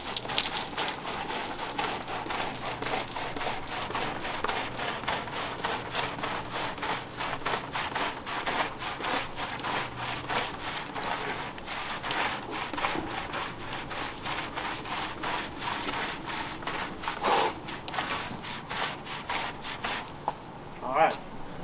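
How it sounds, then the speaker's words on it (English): A soft-bristle brush scrubs the fouled hull of an Everglades 325 boat after six weeks in the water, giving steady, close, rhythmic scratchy strokes that continue throughout. "You're going to use a soft bristle brush this time."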